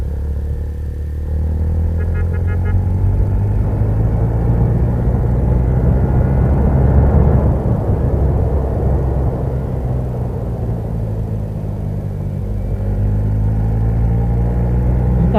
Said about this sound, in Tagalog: Kaya lang may mga sasakyan.